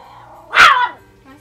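A single sharp dog bark rises suddenly in the middle of a quiet moment, loud and close, then fades quickly into a low background.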